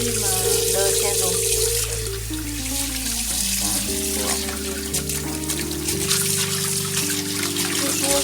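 Water runs steadily from a kitchen tap while vegetables are rinsed, a continuous hiss sitting under loud background music throughout.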